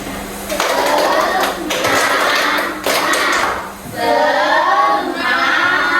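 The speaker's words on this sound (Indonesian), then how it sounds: "ayo sahabat semuanya tepuk semangat" A class of children performs a rhythmic chanted clapping cheer in a school lesson, with loud group voices and a few sharp claps mixed in, nearby and energetic.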